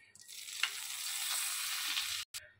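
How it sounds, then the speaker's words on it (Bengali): Dried red chillies, bay leaves and whole garam masala hit hot oil and butter, giving a loud, steady sizzle that cuts off abruptly near the end, then briefly returns. "এবার আমি এতে এক এক করে শুকনো লঙ্কা, তেজপাতা আর গোটা গরম মশলাগুলো দিয়ে দেবো।"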